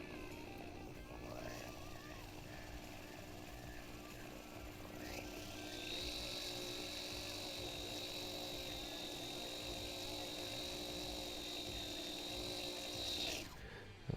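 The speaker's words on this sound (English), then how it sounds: "I'm going to drill down." An electric drill bores into a Telecaster-style guitar body during a DIY upgrade, whining at steady pitch, with the tone rising as it bites deeper before cutting off sharply at the end.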